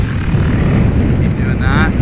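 Dirt bike engine revving under throttle, a loud, close, rough roar with buffeting wind across the microphone, rising in pitch near the end.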